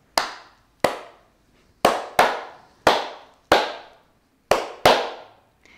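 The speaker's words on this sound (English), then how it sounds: "So we clap, one," Hand claps in a preschool-to-grade-six music class cup rhythm activity, nine sharp claps in a loose beat pattern with short gaps between groups, close and clear with no talking.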